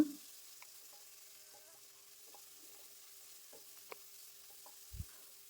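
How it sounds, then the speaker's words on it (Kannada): Finely chopped onions fry in oil in a kadai: a faint, steady sizzle with scattered soft clicks and scrapes from stirring, plus one low knock near the end. "ಅದೇ ಕಡಾಯಿಗೆ ನಾನು ಒಂದು ಗಡ್ಡೆಯಷ್ಟು ಈರುಳ್ಳಿನ ಸಣ್ಣದಾಗಿ ಕಟ್ ಮಾಡಿಕೊಂಡು ಸೇರಿಸ್ಕೊಳ್ತೇನೆ ಆ ಎಣ್ಣೆಯಲ್ಲೇ ಈರುಳ್ಳಿನ ಚೆನ್ನಾಗಿ ಫ್ರೈ ಮಾಡ್ಕೊಳ್ಳೋಣ"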